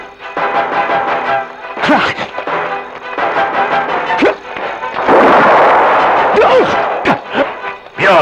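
Gunfire and impacts in an Iranian historical action film, a series of sharp bangs and crashes spread across a busy, loud soundtrack, with a long burst of noisy blasts near the middle.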